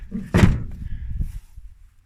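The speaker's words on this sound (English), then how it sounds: "Hang on, I'm just closing the doors on this to give me more room back here." An old van's door slams shut with one loud, solid thunk close by. A brief rattle and some shuffling follow before it goes quiet.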